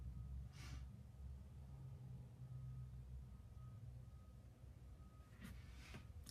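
A roofing truck's reversing alarm sounds faintly in the distance, a thin steady tone heard through soundproofing under a low rumbling engine idle, with a couple of short noise bursts.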